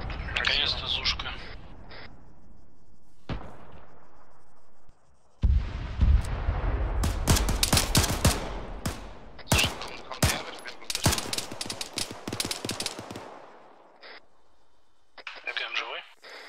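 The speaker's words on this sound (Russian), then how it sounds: "Сейчас кто стреляет? Наконец-то Зушка." Bursts of ZU-23 anti-aircraft cannon fire in a military combat game, rapid loud volleys that come in clusters over a few seconds, with radio-style voice chat before and between them.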